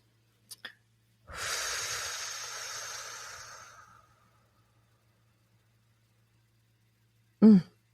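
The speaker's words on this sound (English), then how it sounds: "And a nice cleansing breath if that feels good." A single deep cleansing breath, a long airy inhale-exhale lasting a few seconds and heard up close in a quiet setting during a guided healing session, followed by a brief soft vocal sound.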